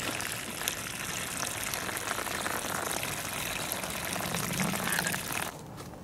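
Water pouring steadily onto the soil of a Zingarella fig tree air layer, a continuous splashing gush for several seconds that cuts off sharply near the end.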